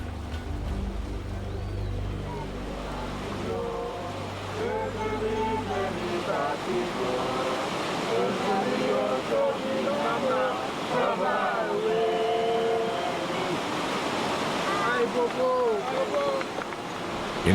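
The sacred waterfall of Saut-d'Eau in Haiti gives off a continuous, full rush of cascading water that roars throughout, with someone narrating over it and other voices faintly mixed in.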